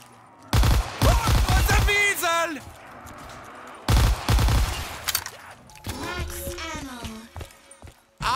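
A Thompson submachine gun fires in Black Ops 3 Zombies on a Minecraft-style Verrückt map, two loud rapid bursts of automatic fire followed by game sounds and a voice-like wail.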